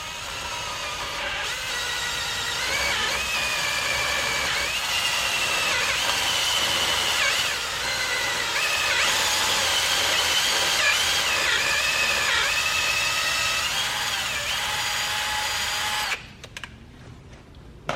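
A power drill bores steadily into a BMW E36 M50 cylinder block for an 11mm head stud conversion, a loud continuous whine with slight pitch wavering for about sixteen seconds before it stops abruptly.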